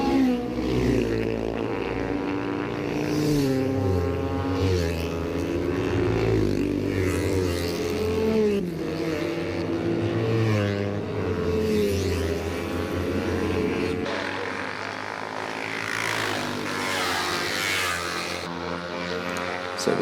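Racing motorcycles, including smaller-capacity bikes, at the 2016 Mountain Thunder street race in Methven scream past a trackside camera, their engine notes climbing and dropping through gear changes in a loud, continuous run of close passes.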